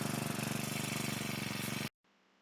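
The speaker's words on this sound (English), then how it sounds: "And we start the engine." A four-stroke engine on a Sharp Garuda power sprayer runs with a loud, steady rapid chugging for almost two seconds, then cuts off abruptly into near silence.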